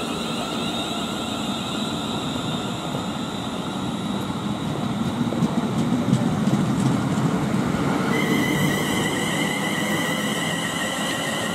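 A TfL Rail Class 360 electric train passing through Ealing Broadway station, a steady rumbling run with electric whine, growing louder mid-pass and ending in a higher motor tone.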